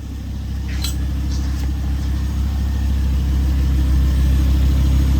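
Volvo C30 engine idling after a catless downpipe install, a steady low exhaust rumble with an even throb, close and constant with no revving.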